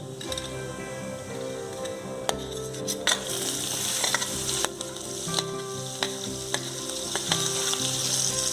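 Cumin seeds and green chillies sizzle in hot oil in a pan and get stirred, a loud close crackling fry punctuated by sharp clicks and scrapes of a spoon against metal.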